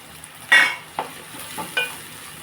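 Ingredients stirred in a frying pan, a few short scraping strokes over a soft sizzle, close and moderately loud, with no talk.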